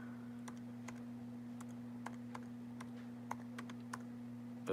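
Quiet, irregular taps on a computer keyboard over a steady electrical hum, with scattered separate keystrokes and no talking.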